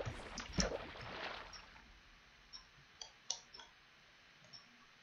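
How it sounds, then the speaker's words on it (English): Splashing noises in a horror elevator video game: a louder watery burst near the start, then several sharp, faint splashy clicks spaced irregularly over a quiet background. "Why were there, like, splashing noises?"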